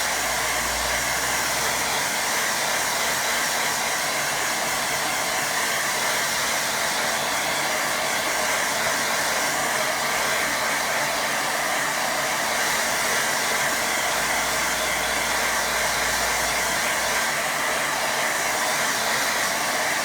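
A hair dryer blows steadily and loudly at close range for the whole stretch, a constant broadband rush drying a watercolour painting of a windmill, with no talk over it.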